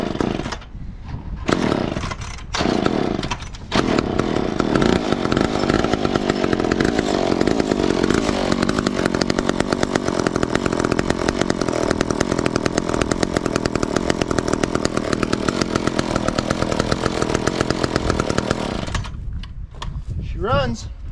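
An old McCulloch Mac 10-10 chainsaw sputters through a few short pulls, then roars into a steady, loud, close idle and rev for most of the run before cutting out.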